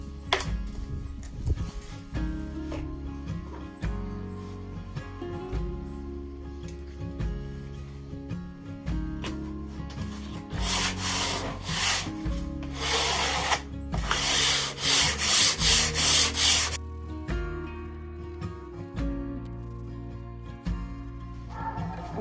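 Hand sanding of wood with coarse 60 grit sandpaper, a steady run of rhythmic rubbing strokes, close and fairly loud, growing harsher and denser in the middle before easing off.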